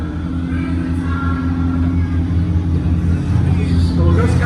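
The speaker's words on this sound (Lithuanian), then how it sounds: "dar vienas Porsche automobilis" A Porsche car's engine drones as a steady, loud low rumble that swells slightly toward the end, heard from nearby at a racing event.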